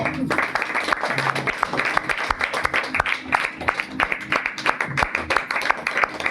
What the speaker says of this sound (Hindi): प्रभु का धन्यवाद कर सकते हैं तालियों के लिए